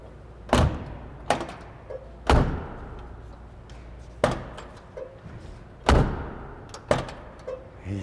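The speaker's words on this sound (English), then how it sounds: "Let's open some doors." A 1965 Mustang's car door is repeatedly opened and shut, about six solid thunks spaced a second or two apart, close and fairly loud with quiet gaps between.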